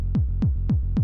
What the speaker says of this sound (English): one last thing you can do with the 909 kick is that you can make it a sort of Frenchcore kick